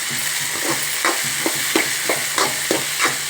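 Chopped tomato and onion fry in a pan for upma, a steady loud sizzle broken by regular stirring scrapes about every third of a second, with no voices.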